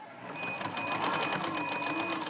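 A sewing machine runs steadily through a straight stitch along a hem, a continuous close, even whirring rattle lasting the whole stretch with no talk over it.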